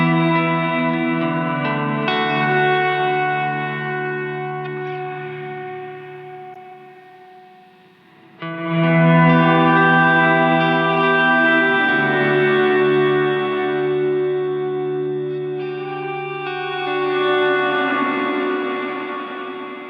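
Guitar played through a Strymon NightSky reverb pedal with no drive ahead of it, sustained chords blooming into a long, lush wash of reverb with a fresh swell midway, loud and alone.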